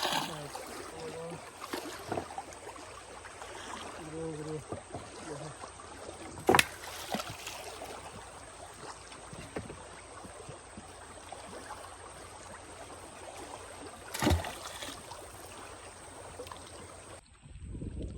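A small fishing boat drifts on the strong current of the wide Matla river, with a steady wash of water and gentle lapping around the hull, a few sharp knocks, and soft voices at times.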